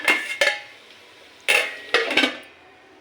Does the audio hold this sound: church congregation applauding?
no